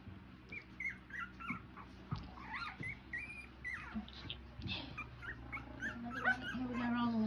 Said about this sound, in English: Is that you barking?